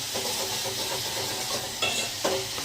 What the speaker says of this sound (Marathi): वरण फोडणी देते बघा